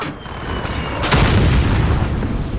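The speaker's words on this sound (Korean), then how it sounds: "수류탄 투척" A grenade blast in Call of Duty Modern Warfare, a sudden heavy boom that swells into a sustained rumbling roar lasting about a second and a half, loud and close.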